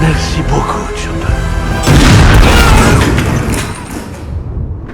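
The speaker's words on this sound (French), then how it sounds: "Oh, l'explosion de merde." Explosion in a One Piece live-action episode scene, a loud booming blast with a dense rumbling roar that swells, then decays into noisy debris and fading rumble.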